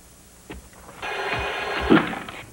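A telephone rings indoors in a domestic scene, a steady electronic ringing that starts partway through and continues clearly, loud and close, with no talk over it.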